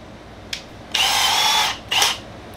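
Milwaukee cordless hammer drill with a Jacobs chuck is triggered in short bursts: a brief blip, a sustained whir of about a second, then another short run, loud and close with no talking.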